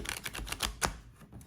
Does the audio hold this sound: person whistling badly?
no